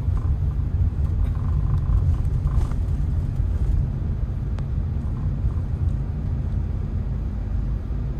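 A Suzuki Ertiga driven in second gear on a town road, heard from inside the cabin as a steady low engine and road rumble, moderately loud and continuous, with no voices.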